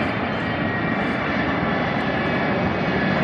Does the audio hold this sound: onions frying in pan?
no